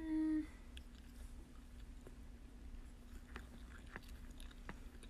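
Someone chewing food close by: faint, soft crunching and mouth sounds repeating irregularly over a quiet background.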